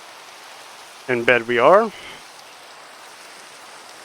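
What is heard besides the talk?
rain in the video game Minecraft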